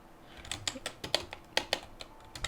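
A password is typed on a computer keyboard while setting up a Raspberry Pi running Raspbian, a run of quick close keystrokes in an irregular rhythm, soft clicks with a few sharper taps, no voice over it.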